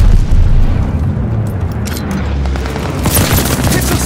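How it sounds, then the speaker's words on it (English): An allied bombing run pounds the battlefield in Call of Duty: Vanguard, with loud, continuous rumbling explosions and a fusillade of distant gunfire rolling together at high volume. "Friendly bombing run inbound."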